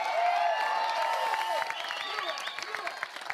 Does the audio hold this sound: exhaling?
no